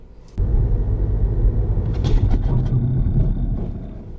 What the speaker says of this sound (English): press the foot brake quickly and firmly, and then press the clutch down straight after